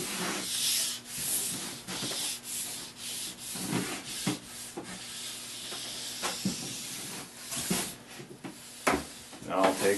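Fast Wax Flite Arctic compound is rubbed by hand over a ski base in short, repeated scrubbing strokes, a close dry brushing hiss with uneven bursts, and a person speaks at times during the work.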